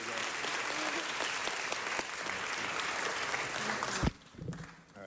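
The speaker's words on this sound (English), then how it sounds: "Let's give her a round of applause and congratulate her." An audience at a city council meeting gives sustained, even applause for an award recipient; the clapping stops abruptly near the end, followed by a short voice and some shuffling.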